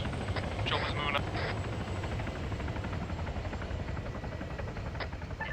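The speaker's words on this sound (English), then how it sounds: "Chopper's moving up." A helicopter moves overhead near a castle, its rotor wash a constant rumbling drone heard at a distance throughout, with a few short radio-like voice bursts over it.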